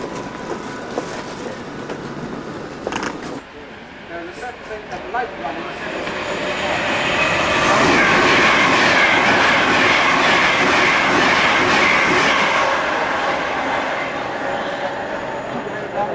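A Virgin train in the UK rumbles past with steady clickety-clack, growing louder and fuller midway as the carriages roll by close, then continuing at a strong, even roar.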